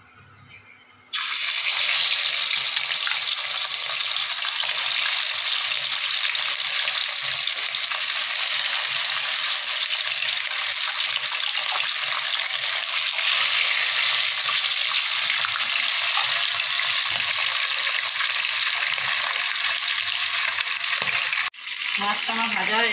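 Pieces of rui fish fry in hot oil, giving a loud, steady sizzle that starts abruptly and runs unbroken for about twenty seconds, with a brief dip near the end.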